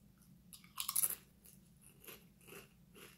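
Hot and spicy chili lemon Waves potato chips are crunched up close, with one loud bite and then a few quieter chews.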